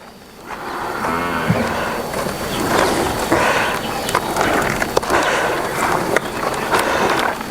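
A pregnant Jafrabadi Murrah water buffalo lets out a long, loud mooing call close by, with a second low bellow following, over outdoor farm background noise.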